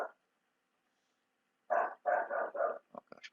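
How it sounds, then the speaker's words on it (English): A pet dog indoors barks in a quick burst of four loud, close barks, then adds several shorter yips, with near silence before. "my dog just went crazy here, and you're probably hearing her through the microphone"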